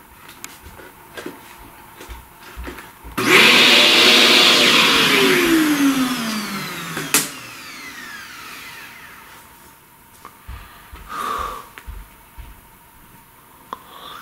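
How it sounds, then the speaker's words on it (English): A vacuum cleaner sucks up pastel dust during flower drawing, switching on abruptly with a loud whining roar that slowly drops in pitch as it spins down, then cuts off, leaving faint handling noises. "let's sort of vacuum up some of this"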